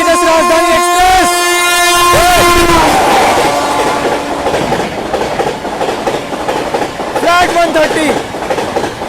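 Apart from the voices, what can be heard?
Patna Tejas Rajdhani Express train overtaking with horn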